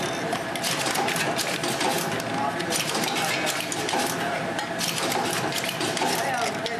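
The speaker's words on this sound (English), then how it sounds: "You are seeing the machine in operation." A Comby tube filling machine for aluminium and laminate tubes runs continuously up close, a dense, steady mechanical clatter of rhythmic ticking and whirring, loud and even with no pauses.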